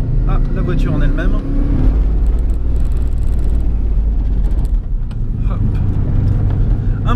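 Car engine driving along a winding road with blind bends, a loud low rumble and road roar that rises and falls with throttle, heard from inside while someone talks over it.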